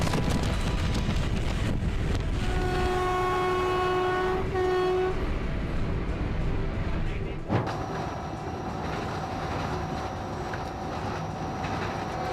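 An Indian Railways freight train rumbles past steadily in a mountainous area while its horn blares in a long sustained blast, with wind buffeting the microphone throughout.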